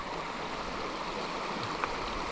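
A creek in Northern California, away from Shasta County, flows with a steady broadband rush. The water is fairly close and even, with a couple of small splashes near the end.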